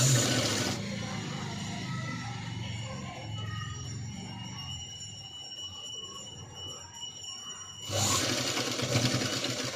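Sewing machine stitching a boat neck blouse, a steady mechanical whirr running through most of the stretch, with louder bursts of stitching at the start and end.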